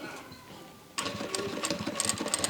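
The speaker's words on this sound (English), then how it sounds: "So I'm going to go ahead and go over the same stitch again." A Vevor industrial sewing machine stitches vinyl fabric, starting abruptly with a fast, steady mechanical chatter of needle strokes that runs on loudly after a quiet hum.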